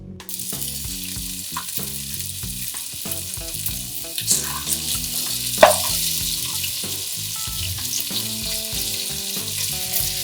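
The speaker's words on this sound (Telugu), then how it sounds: "దీంట్లోకి మనం చికెన్ వేసి దీన్ని ఫ్రై చేద్దాం" Chicken pieces frying in about four cups of hot oil with dried red chilies, a continuous busy sizzle and crackle with occasional sharper pops and stirring clinks, close and steady with no talking.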